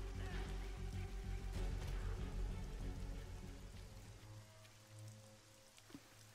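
Rain falls in the survival video game How to Survive: Storm Warning Edition as a faint, steady patter of drops that thins out toward the end.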